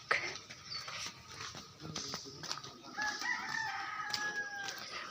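A rooster crows among three hens, a drawn-out cock-a-doodle-doo rising in the latter half over faint clucking, a dog and light background noise.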